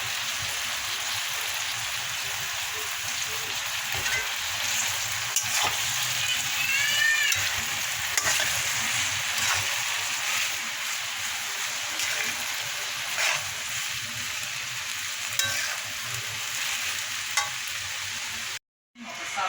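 Chow mein noodles stir-fry with vegetables and tomato in a hot pan, giving a steady close sizzle with scraping stirs and spatula clatter running throughout and briefly cutting out near the end, with no talking.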